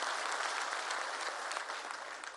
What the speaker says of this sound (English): we must give ourselves a hand of applause for that